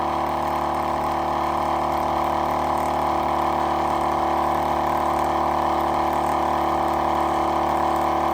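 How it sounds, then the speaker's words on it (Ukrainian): An RZTK AC 85 LED car air compressor runs with a steady, even motor hum and a dense mechanical buzz that stays at a constant level throughout, close by and with nothing else heard. "Однозначно тихіше, ніж однопоршневі компресора."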